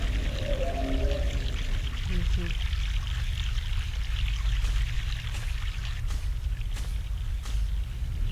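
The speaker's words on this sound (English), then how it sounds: "Fresh mountain water." Fresh mountain water rushes steadily outdoors, a continuous broadband stream roar filling the clip, with a few brief faint voice-like tones early on and occasional soft knocks.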